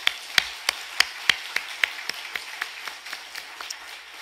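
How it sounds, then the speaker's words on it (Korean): Slow, rhythmic clapping from a church congregation, sharp distinct claps at an even pace gradually growing softer, with a faint background hum. "우리 다시 한번 우리 열렬히 뜨겁게 박수 한번"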